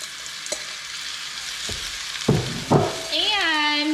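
Apples go into a pan of melting brown sugar, producing a soft background sizzle broken by a few clattering drops and spoon scrapes, followed by a brief rising squeak.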